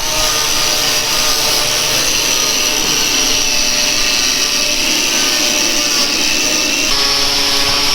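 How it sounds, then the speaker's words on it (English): Continuous loud abrasive whirring of a wire wheel brush scuffing metal body parts of a 1978 Toyota FJ40 during restoration, steady throughout with a harsh, hissing texture. "we use a wire wheel brush in order to scuff that surface"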